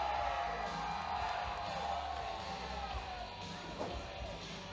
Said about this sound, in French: Le public est derrière lui.